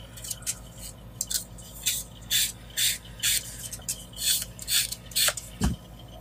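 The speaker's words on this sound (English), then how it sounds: "I'll just give that a little dress up with me sanding stick" Sanding stick rubbing plastic on a model motorcycle fairing, a run of short, close scraping strokes with brief pauses between them, plus a single soft knock near the end.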